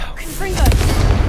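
A fire spell blast in a fantasy game: whooshing, swept magical tones lead into a heavy, close boom with a thick rumbling tail. Talk may run briefly underneath.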